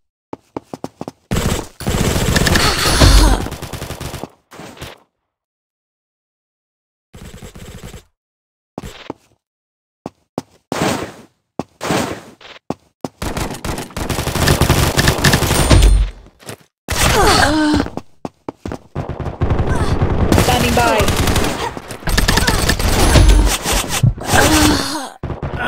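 Automatic gunfire from the first-person shooter video game Combat Master, loud repeated bursts separated by short silent gaps, with dense sustained firing near the end.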